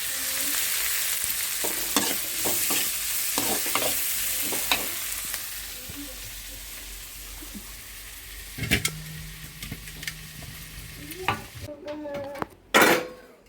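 Cooked tomato, green chilli and curry leaves with salt are mashed in a hot pan for poori kurma, giving a steady close sizzle with scattered spoon scrapes and clinks and a sharper clatter near the end, with no speech.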